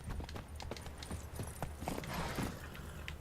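Roach the horse galloping in The Witcher 3: Blood and Wine, rapid rhythmic hoofbeats clattering steadily over a low ambient game rumble, moderately close.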